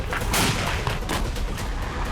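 Gunfire and artillery fire in Syria sound as a dense, continuous barrage of booms and shots, loud and rumbling throughout with no pause or talk.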